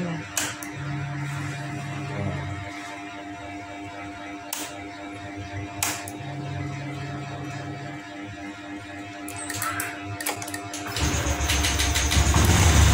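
A car with a swapped replacement battery cranks with a steady starter whir, pauses, cranks again, then fires and settles into a louder, continuous engine run toward the end, with no talk.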